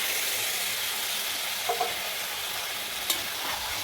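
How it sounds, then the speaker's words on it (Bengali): Loud continuous sizzling as marinated chicken is poured into a hot pan of fried spices, with a couple of scrapes and a sharp clatter partway through. "মশলাটা মোটামুটি ভাজা হয়ে গেছে, এখন চিকেনটা ম্যারিনেট করে রেখেছিলাম আগে, এটা ঢেলে দিলাম"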